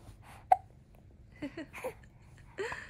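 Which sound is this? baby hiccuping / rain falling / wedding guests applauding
baby hiccuping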